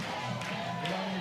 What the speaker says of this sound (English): You can hear the crowd really excited for Larissa Pruitt on her senior day.